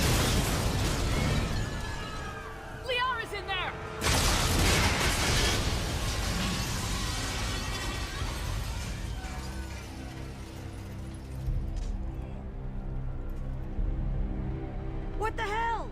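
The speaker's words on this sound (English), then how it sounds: "Why does everything always wind up ending with an explosion" Explosion in the Mass Effect 2 video game, a loud burst followed by shattering and rumbling debris and lingering crackles, with characters speaking over parts of it.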